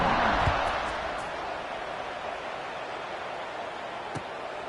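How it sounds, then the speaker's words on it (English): Stadium crowd buzzing in the College Football 25 video game after a score, ahead of a kickoff: a broad, steady roar of many voices that swells loudest at the start and then settles to a constant wash, with a faint thump near the end. "this crowd is buzzing after that last score"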